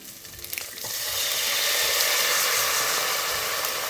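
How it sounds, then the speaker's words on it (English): A full 750 ml bottle of black vinegar pours into a pot for braised pig trotters, a steady close liquid splash and gurgle that builds after a few opening clinks and runs on evenly. "So I'll pour in the full bottle."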